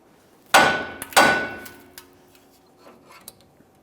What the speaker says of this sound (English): you could use a hammer and just cause some light vibration here,